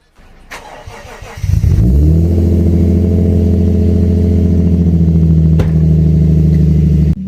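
A Lexus IS200 cranks on a cold start after sitting a long time, catches and settles into a loud, rumbling idle with a brief rev, the steady engine drone filling the rest.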